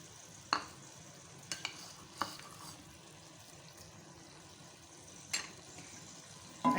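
Mutton frying with garlic ginger paste in a pan, a quiet sizzle under repeated stirring scrapes and a few sharp spoon knocks against the pot.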